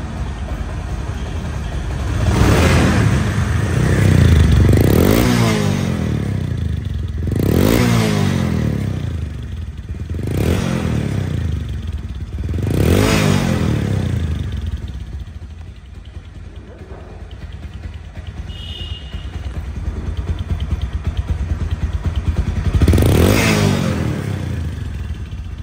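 A Bajaj Discover 135cc motorcycle engine runs close by, revved repeatedly in a series of rising and falling surges over a steady idle, loud and alone with no talk.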